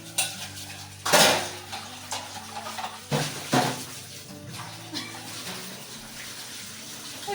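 Two items being washed under a running tap, with water splashing and dishes or utensils clinking and knocking against each other in a few louder bursts, close by, with faint voices in the background.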